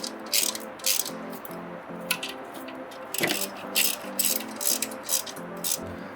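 A ratchet tightens bolts during a differential install on a Mk3 Ford Focus ST. Repeated short bursts of rapid clicking run through the clip, close and fairly clear, with brief pauses between runs.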